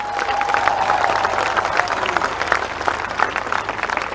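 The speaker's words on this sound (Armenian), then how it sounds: "ուզում եմ բարձր ծափարեք մեր բոլոր կանանց" Loud, sustained applause from a large crowd fills the hall, steady and dense throughout, honoring the women in attendance at a public gathering.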